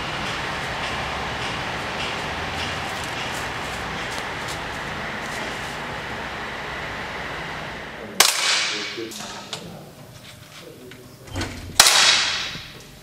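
Shots from a 4.5 mm air pistol fired at 10 metres on an indoor range, heard as a few sharp, loud cracks spaced a couple of seconds apart after a stretch of steady background hum.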